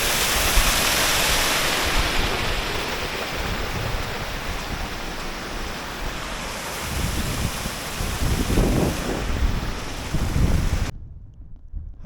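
Rainwater running down a hillside field and pouring straight over a stone wall, a steady close rushing splash with gusts of wind buffeting the microphone, continuous for about eleven seconds before cutting off abruptly.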